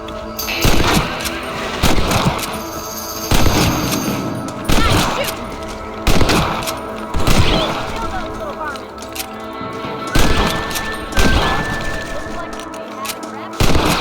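Rifle gunshots in the Red Dead Redemption video game, a series of loud, sharp blasts at regular intervals of roughly one to two seconds, with game dialogue and ambient sound between the shots.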